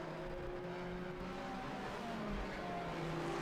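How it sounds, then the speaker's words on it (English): A two-stroke Kohler-powered race car passes at a Road America SpeedTour event, its engine a faint, distant buzzing whine that holds steady against a broad roar of track ambience. "Here comes the two-stroke Kohler."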